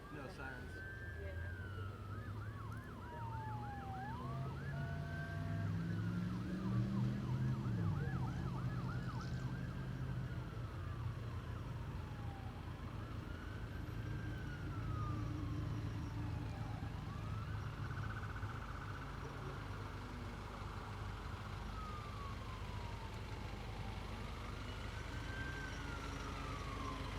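A wailing emergency siren rises and falls repeatedly in the distance over traffic rumble in Gallipolis, Ohio, with faint talking underneath.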